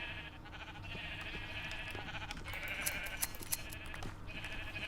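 Sheep in a video game bleat several times in quick succession over a steady, busy game background, moderately loud and close.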